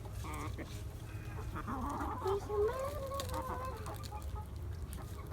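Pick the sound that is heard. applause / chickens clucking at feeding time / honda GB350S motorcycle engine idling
chickens clucking at feeding time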